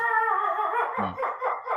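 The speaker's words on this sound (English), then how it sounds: "That is my dog Panda." An excited pet dog lets out a brief howling yelp indoors, a single short vocal burst heard over steady background chatter and room sound.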